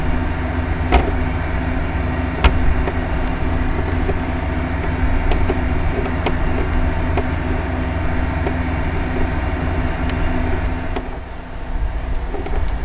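Truck engine in a video game heard from inside the cab, a loud, constant low rumbling drone with faint periodic clicks and rattles, no voices.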